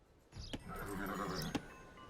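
A horse whinnies for the Scout Cavalry unit in Age of Empires II: Definitive Edition, one clear, drawn-out neigh framed by two sharp clicks.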